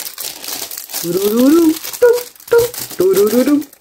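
Plastic packets crinkle and rustle loudly up close as they are stuffed into a container, in irregular bursts, while someone speaks throughout.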